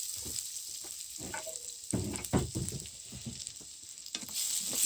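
Potatoes hitting a hot pan of spluttering cumin seeds in oil, a steady frying sizzle with bursts of crackle and a few stirring clunks, close and moderately loud.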